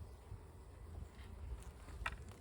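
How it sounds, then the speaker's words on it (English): Honey bees in a freshly opened spring hive, a faint continuous buzzing drone with a few brief louder passes of individual bees near the microphone. "Oh nice, we have some bees here."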